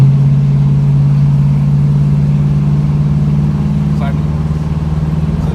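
A 1973 Dodge Charger in drive accelerates from a steady, loud low engine drone that holds constant throughout, with faint background noise and no talk.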